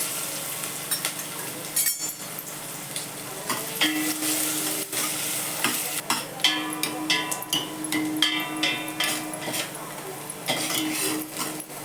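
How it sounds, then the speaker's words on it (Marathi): Onion, star anise, cloves, black pepper and bay leaves frying in oil for mutton curry, a steady sizzle broken by repeated scraping stirs and clinks of a utensil against the pan. "थोडासा कांदा तेलात चांगला परतू द्यायचा"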